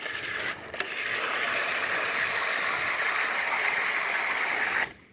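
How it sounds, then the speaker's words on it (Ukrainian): Water gushes steadily into a calf drinking trough from a pressed tap, a loud close hissing rush starting with a click and clatter and stopping abruptly near the end, with no talking. "Легенько натискаємо."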